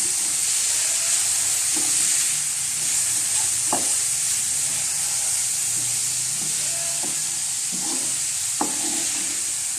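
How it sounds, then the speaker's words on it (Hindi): A potato and mixed vegetable mixture with spices fries in a pan for aloo tikki, a steady loud sizzle and hiss throughout, with occasional soft scrapes and taps of stirring. "इसको अच्छे से फ्राई कर लेंगे।"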